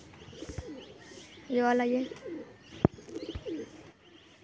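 Pigeons coo and call near a dovecote, with a steady tonal coo standing out mid-clip among scattered bird sounds and a sharp knock, while someone speaks briefly over them.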